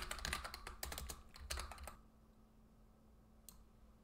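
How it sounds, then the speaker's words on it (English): A loud computer keyboard is typed on rapidly, close-up clacking keystrokes in quick bursts for about two seconds, then near silence with a single faint click. "why is my keyboard so loud?"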